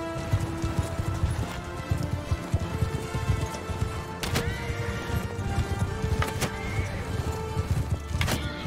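Horse hooves clip-clopping at a gallop during a battle in Mount and Blade Bannerlord, steady and fairly close, mixed with clashing game combat sounds and occasional sharp hits.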